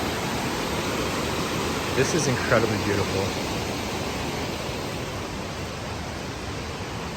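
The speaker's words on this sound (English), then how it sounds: "And then the waterfall is right there." A waterfall at Beacon Rock State Park in Washington roars as a steady, loud, broadband rush that fills the whole stretch, with a person speaking briefly over it.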